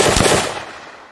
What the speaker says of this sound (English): We have our fire.